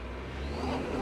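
A 1958 Toyota Land Cruiser without a center locker loses traction on a steep off-road hill, its engine droning steadily with a low rumble while the rear wheels spin; the sound holds fairly even and close throughout.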